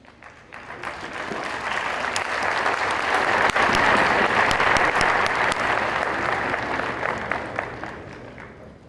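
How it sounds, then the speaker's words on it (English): An audience at a vegan environmental event in Lomé applauds the mayor's representative onto the stage, loud sustained clapping that swells to a peak midway and then slowly tapers off. "welcome him on stage with big applause"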